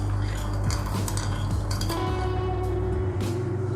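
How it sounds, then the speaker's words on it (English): A spoon stirs warm milk with sugar in a bowl, giving repeated close clinks and scrapes of metal against the bowl at an irregular rhythm over a steady background hum. "Give it a stir."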